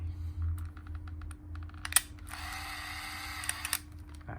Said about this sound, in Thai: วิธีการถ่ายก็จะแบบนี้ นะครับ กด ชัตเตอร์ ได้เลยง่ายๆ นะครับ